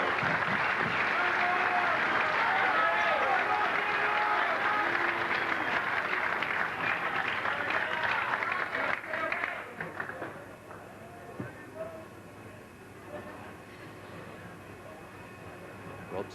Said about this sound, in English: send them off again. Big round of applause.